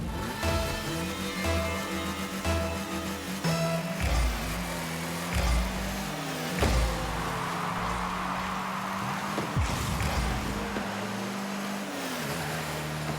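Engine drone and tire noise from a car being driven in a video game, steady and continuous with shifting engine tones and occasional thumps, played through a cheap HDMI capture device with no talking over it.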